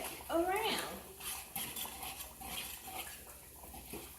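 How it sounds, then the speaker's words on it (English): A spoon stirs dry broccoli flakes around in a cooking pot, scraping and clinking against the metal in a steady rhythm, close and moderately loud, with a brief voice-like sound near the start. "So we put those in. And we stir that around."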